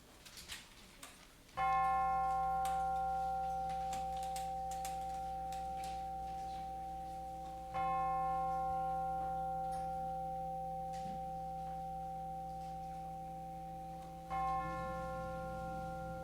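Chimes struck three times during a church service, each ring a clear sustained metallic tone with bright overtones that slowly decays before the next strike, with long gaps between them in a quiet room.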